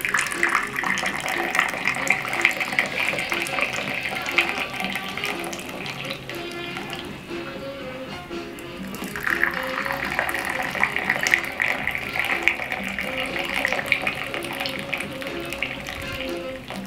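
Ethiopian coffee, the second round brewed with water added on top, pours in a continuous liquid stream, moderately loud, easing briefly midway and then resuming.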